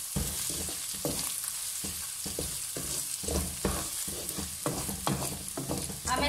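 Mutton masala for balti gosht sautéing in oil in a pan, a steady close sizzle broken by repeated scraping stirs in an uneven rhythm, with no voices.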